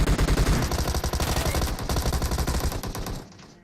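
Rapid automatic gunfire rattles through a battle royale shooter match, dense continuous bursts of shots fading out at the end.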